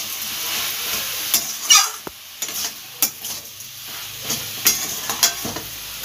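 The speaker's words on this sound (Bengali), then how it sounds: "এবার এটা কষিয়ে নেব" Cabbage and spices being sautéed in a pan with a steady soft sizzle, broken by occasional clinks and scrapes of a stirring spoon against the metal.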